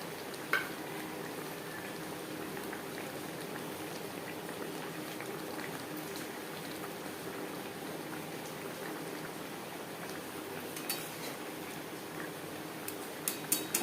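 Tilapia fish curry with chopped coriander simmers steadily in a pan, a soft continuous bubbling hiss with a few faint clinks near the end, no talking.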